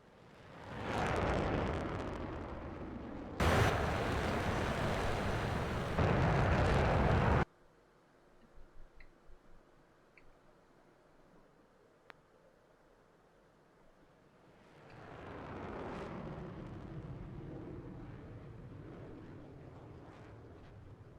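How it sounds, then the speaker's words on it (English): A jet aircraft in the DCS flight simulator roars past with a loud, broad rush for several seconds, cuts off abruptly into near quiet, then swells back up as a sustained roar near the end. "We'll do a flyby first actually"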